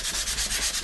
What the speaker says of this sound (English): sanding disc, and we're just going to lightly sand it down